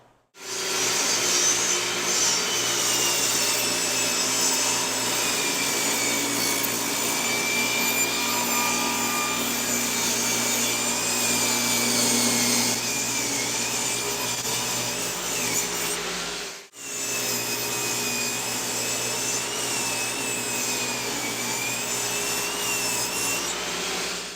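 A saw blade ripping lumber along a fence for outdoor benches, a loud sustained cutting roar with a high whine, close up, interrupted by one brief dip before the cut resumes steadily.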